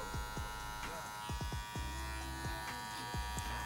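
Electric hair clippers cutting a low graduation line above the ear during a crop top fade, a steady close buzz with small pitch shifts as the blade moves through hair.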